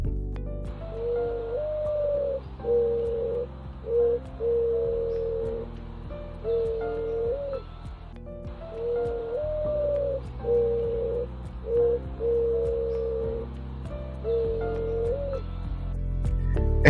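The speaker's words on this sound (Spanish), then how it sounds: "Así es como se ve y escucha una tórtola de socorro." A Socorro dove gives soft, low cooing calls, a short run of hollow notes repeated as two matching phrases with brief pauses between, close and clear.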